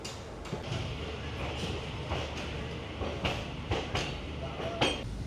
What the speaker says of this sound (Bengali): রাইট টাইমে ট্রেন ছেড়ে দিল কলকাতা স্টেশন